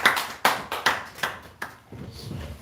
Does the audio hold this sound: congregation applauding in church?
yes